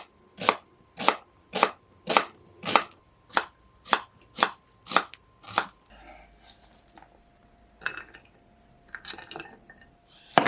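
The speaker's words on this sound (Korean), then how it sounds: "양파 반 개는 작은 크기로 써세요." Half an onion chopped into small pieces on a cutting board: about ten sharp, evenly spaced knife strikes, close and crisp, followed by softer scattered taps and scraping.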